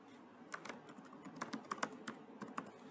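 Computer keyboard typing at a steady, close pace, with a dozen or so distinct key clicks in irregular short bursts and no voices.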